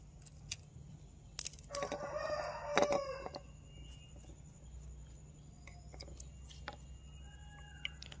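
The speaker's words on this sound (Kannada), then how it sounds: "ಈ ಕೋಳಿಗಳು ವಿಡಿಯೋ ಮಾಡುವಾಗಲೇ ಕೂಗುದಲ್ಲ" A single rooster crows once, fairly faint and from a distance, in a quiet rural yard. Scattered soft clicks and a low background hum surround it.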